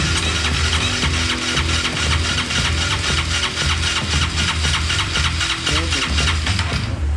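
A Yamaha Mio 160cc big-valve scooter engine cranked over for a compression test, its starter churning in a fast, even rhythm of pulses that runs loud and close for about seven seconds before cutting off.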